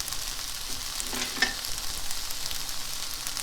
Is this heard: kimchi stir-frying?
yes